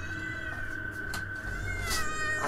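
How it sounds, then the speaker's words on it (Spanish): A cat meows in a drawn-out, strained call, heard faintly over a low background hum in a horror game setting. "Ven aquí, gato."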